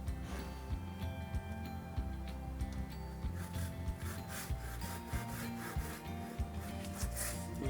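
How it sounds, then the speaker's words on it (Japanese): Young, soft bamboo being cut by hand, a steady back-and-forth rasping saw stroke repeating close to the microphone. "この若い竹気持ちいいんだよ切るの。"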